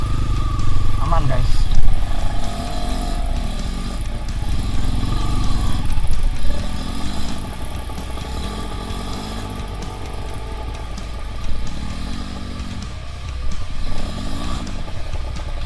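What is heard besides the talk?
trail motorcycle engine riding off-road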